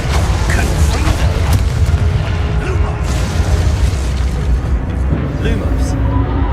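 A Confringo fire spell explodes in the wizarding video game Hogwarts Legacy as a loud, dense, continuous boom with rumbling low end, layered with game effects throughout.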